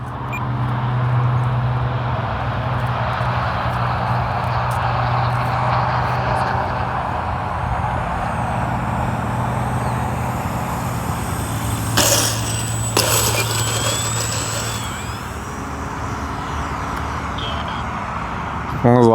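An E-flite Spitfire Mk XIV RC model plane with gear down and takeoff flaps makes a touch and go, its steady electric motor drone holding level with a brief louder whoosh midway.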